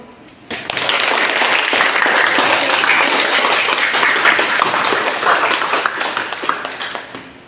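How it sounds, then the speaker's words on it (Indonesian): A classroom audience claps together after a group's presentation, a dense burst of applause starting suddenly, holding steady for several seconds and then thinning out, with no talking over it. "Kasih aplaus dulu."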